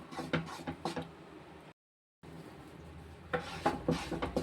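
Boost barfi mixture being stirred in a pan, with soft scraping and clinking of a spoon against the metal, moderately faint, broken by a short silent gap before the stirring resumes more busily.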